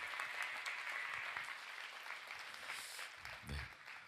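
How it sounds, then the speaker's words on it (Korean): A church congregation at a youth worship service applauds steadily, a soft, even wash of clapping that holds throughout, faint and somewhat distant, with a few louder low thumps near the end. "귀한 말씀 나눠주신 우리 장로님께 한 번 더 박수할까요?"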